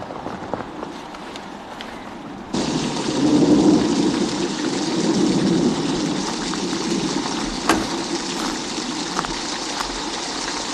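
A thunderstorm with steady heavy rain on surfaces sets in abruptly, a broad close hiss with low rolling thunder swelling and fading, and a sharp crack near the end.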